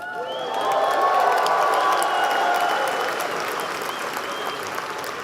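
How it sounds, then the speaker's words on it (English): Graduates at a Georgia Tech Fall 2024 bachelor's commencement applaud in a large hall, with cheers, whoops and whistles rising over the clapping. The noise swells loud in the first seconds, then gradually eases. "please rise if you haven't already risen, and cheer like we mean it"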